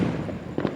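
Fireworks bursting on Bonfire Night in Fullerton, California: a steady crackling rumble with two sharper bangs near the end, moderately close.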